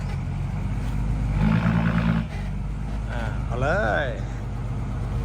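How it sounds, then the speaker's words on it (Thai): A tractor engine works on a rural road construction site, filling and laying the road. Its continuous low, loud rumble runs under people talking nearby. "รถไถ"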